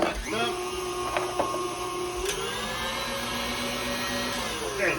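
An electric mixer beats pound cake batter with butter in a bowl, giving a steady, continuous whirring motor drone that holds an even pitch from start to finish.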